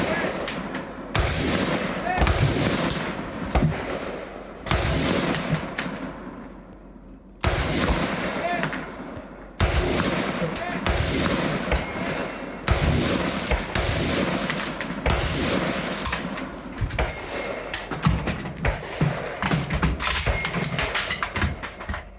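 Repeated close bursts of AK rifle fire at an outdoor competitive shooting match, with sharp cracks in rapid strings and short pauses between volleys, continuing steadily throughout.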